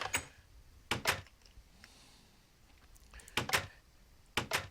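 Wooden doors in the Minecraft survival game open and close in quick pairs of sharp clacks, three bursts spread across a few seconds, close and fairly loud over faint background ambience.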